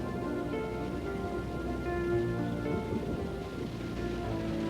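Steady rain and distant rumbling from an afternoon thunderstorm over open countryside, a continuous wash of falling water with low rolling undertones, no voices.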